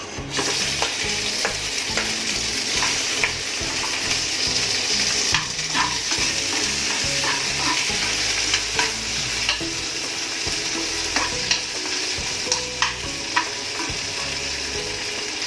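Potatoes sizzle in a pan while being stirred, a continuous frying crackle broken by frequent scraping clicks of the spoon against the pan, close and with no talking.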